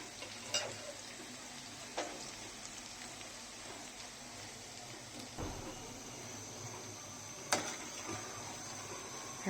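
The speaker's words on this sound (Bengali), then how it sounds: "এখন ভালো করে নেড়ে ছেড়ে পেঁয়াজটাকে আমি ভেজে নিচ্ছি।" Onions frying in oil over a low-medium flame for crispy birista, a steady soft sizzle broken by occasional scraping stirs of the spatula, with no voices.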